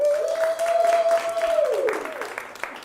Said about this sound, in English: The cacophony of thousands of hands clapping is deafening.